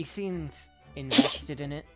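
A single sharp sneeze bursts out between stretches of conversational speech, loud and close, with talking both before and after it.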